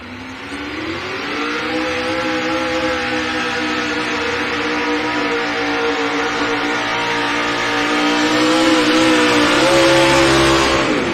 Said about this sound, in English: 648 cubic inches of shotgun Ford Hemi underneath the hood of this truck.